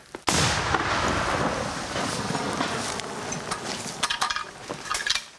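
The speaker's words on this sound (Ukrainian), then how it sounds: "Постріл!" A single loud gunshot cracks out sharply, followed by a long rolling echo and rumble, with scattered rustling and clicks afterward.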